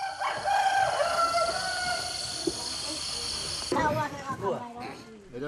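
Rooster crowing in a Mentawai village in Indonesia, a drawn-out call over steady insect and cricket buzz, followed by a burst of other clucking and bird calls near the end.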